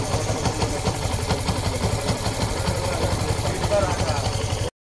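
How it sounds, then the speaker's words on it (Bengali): A Yamaha FZS version 3 motorcycle engine with a bad internal noise, idling close up with a rough, rapidly pulsing low rumble and rattly vibration, running steadily for a few seconds before cutting off. "ভার্সন 3 বাইকের স্মুথনেস নাই, চালাতে গেলে শব্দ হচ্ছে। এছাড়া ইঞ্জিনের ভিতরে ব্যাড নয়েজ।"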